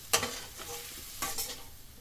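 Two quick scraping stirs of brinjal and potatoes in a pan, a sharp one near the start and another past the midpoint, over a faint low sizzle.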